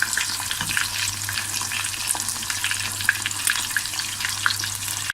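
Chicken wings for Buffalo wings deep frying in hot oil, a steady dense sizzle with crackling bubbles running throughout at close range, with no talking.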